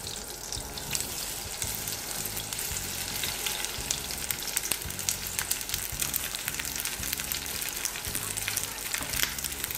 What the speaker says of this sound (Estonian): Pannil saab panna kohe sibula.